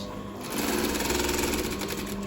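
A sewing machine stitches a pencil skirt in a steady, close mechanical whir with rapid rhythmic clatter that picks up speed after a brief start, with no talking.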